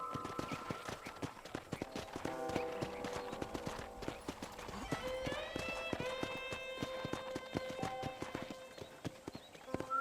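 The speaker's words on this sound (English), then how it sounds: "Okay, let's see if you can still ride a horse." Horse hooves clip-clop at a steady gallop in the Red Dead Redemption video game, with a fast, even rhythm over a ranch setting. Brief musical tones rise over the hoofbeats.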